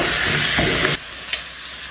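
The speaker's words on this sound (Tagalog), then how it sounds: "Habang hinihintay natin ma-brown yung ating beef para sa ating stock" Beef bones browning in a pan for stock give a loud, close sizzling hiss with stirring for about a second, then the frying drops to a quieter steady crackle with a brief clatter.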